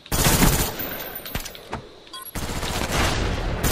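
Gunfire in the video game Black Ops, loud bursts of rapid automatic fire with a couple of sharp single shots and a short lull between volleys.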